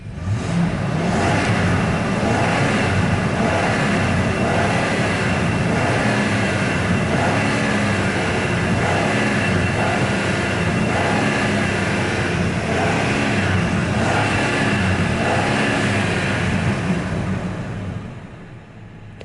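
The 5.4 engine of a 2013 Ford E-350 work van with about 141K miles runs close and loud. It holds a smooth, steady drone with no spoken words, then fades away at the very end.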